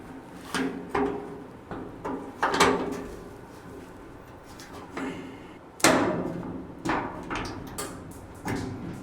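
Metal hinge pin and washer are seated into a garage cabinet door hinge, producing a series of sharp metallic taps and knocks at uneven intervals, some louder strikes standing out, with no talking.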